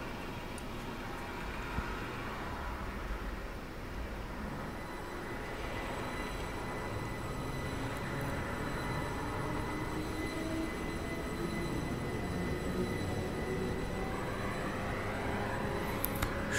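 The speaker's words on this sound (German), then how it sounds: "Fährt noch ein Interregio durch." An Interregio train passes through the station in Train Simulator 2013 on the Berlin–Wittenberg line, giving a continuous, steady rumble and rolling clatter with a faint high whine that holds at an even, moderately loud level throughout.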